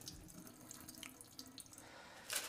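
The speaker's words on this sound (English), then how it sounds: "let most of the water drain out" Water draining through the holes of a seed sprouter into a sink, a steady close trickling and splashing that swells into a brief louder gush at the end.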